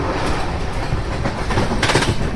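An express train rolls along the tracks on the Chennai Central to Bhubaneswar route, with a loud steady rumble and rhythmic clickety-clack of wheels heard from inside the coach.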